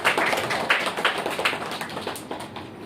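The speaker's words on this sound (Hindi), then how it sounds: "तो सब तालियों से वेलकम करेंगे।" A small group of children at a summer camp finale clapping in welcome, sharp distinct claps in a loose rhythm that gradually fade, with no talk.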